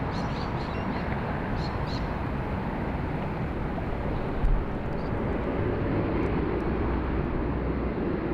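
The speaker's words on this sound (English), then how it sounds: "And we also have the 146 there, just taxiing out, departed early, but they'll be departing on runway 34 left" A BAe 146 airliner taxis out at Sydney Airport, a steady broad roar of its jet engines filling the scene at a moderate distance without pause.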